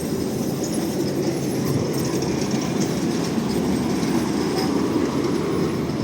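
A Lviv route 2 tram rumbles steadily past at close range, a continuous rolling roar with faint rail clatter throughout and no voices.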